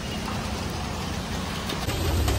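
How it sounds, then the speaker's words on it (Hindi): Steady, dense downpour of heavy rain hissing continuously, with a slightly stronger low rumble toward the end; no voices. "बारिश भी कुछ ज़्यादा ही हो रही है"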